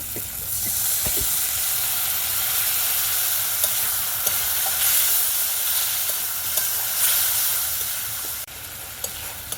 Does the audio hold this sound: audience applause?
no